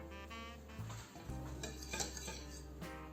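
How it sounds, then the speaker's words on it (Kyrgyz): A spoon stirs a cream mixture of butter and sugar in a thick-bottomed pot over heat, with soft scraping and occasional clinks of metal against the pot, close and quiet over a low steady hum. "азыр отко коюп, тынбастан аралаштырып ысытып алабыз"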